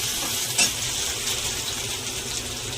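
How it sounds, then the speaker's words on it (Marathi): Ground masala paste frying in a pan: a steady close hiss of sizzling oil with soft stirring scrapes and one brief clink, continuous throughout. "वाटलेला मसाला आता असा परतून घ्यायचा आहे आपल्याला"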